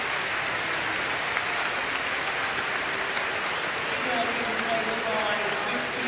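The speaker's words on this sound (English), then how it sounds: "applause for Arteta for the shift he has put in" Stadium crowd at a football match applauding Arteta as he is substituted off, a steady distant wash of clapping beneath a commentator's voice.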